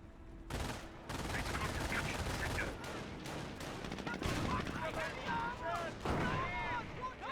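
Sustained machine gun fire rattles through a World War II battle in Company of Heroes, with dense overlapping bursts and other gunfire running almost the whole time. Short voice callouts from units cut in over the shooting.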